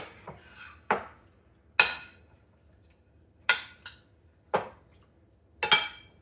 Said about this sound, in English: I'm going to stir that nice and good.